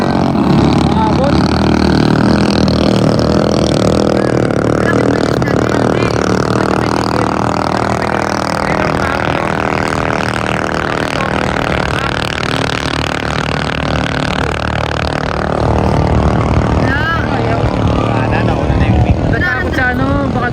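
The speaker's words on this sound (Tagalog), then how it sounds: "Ang lakas ng makina na ito." A racing vehicle's engine at a road race in Ilocos Sur roars loudly and continuously up close, its pitch shifting as it revs, with voices talking over it throughout.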